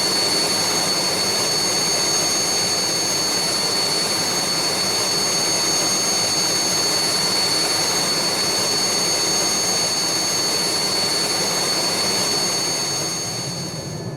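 The turbine engine of an Aerospatiale SA316B Alouette III helicopter in Microsoft Flight Simulator whines and roars steadily and loudly, a dense, unbroken jet-like hiss with high tonal whine, fading slightly at the very end.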